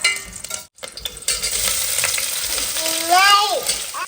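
Cinnamon and other whole spices frying in oil for biryani, a close, loud hiss and sizzle with stirring scrapes and a brief drop to silence early on, alone without talk.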